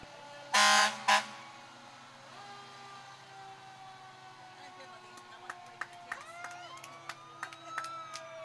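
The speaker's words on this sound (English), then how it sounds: "Lay on that horn." Fire truck air horn at a Summerfest parade blasts twice in quick succession, loud and close. A low engine rumble follows, along with fainter crowd noise and a few scattered sharp sounds.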